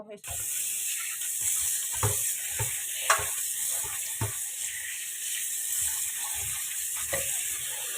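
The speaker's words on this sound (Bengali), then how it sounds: "চলো এটা বসিয়ে দিই, আস্তে আস্তে আস্তে আস্তে ভাজা হতে থাকবে" Soft, even sizzling of food frying in a pan, punctuated by light taps and scraping stirs at irregular intervals.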